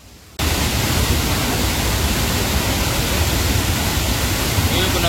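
Thoseghar waterfall near Chalkewadi roars as a steady, loud, broadband wash of falling water, starting abruptly after a brief quiet moment and continuing unbroken.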